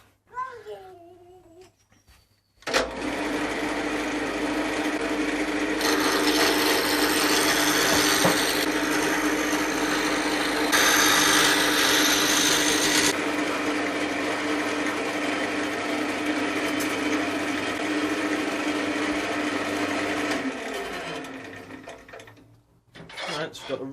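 Lathe turning a recycled HDPE mallet: a loud, steady motor whir with a raspy cutting hiss that brightens in the middle, running for about twenty seconds before winding down, with a child's babble faintly audible at the start.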